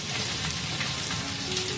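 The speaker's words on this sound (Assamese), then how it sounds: "মই এয়া নহৰু, আদা, জলকীয়া এনেকৈ অকণমান ভাজি লৈছোঁ" Garlic, ginger and green chilli fry in hot mustard oil, a dense, even crackling sizzle heard up close and unbroken over a short stretch, with no speech.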